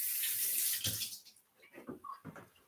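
Running water rinses chopped potato cubes in a kitchen sink, a steady broadband splash and hiss that stays loud for the first second, then thins into irregular trickles and small splashes.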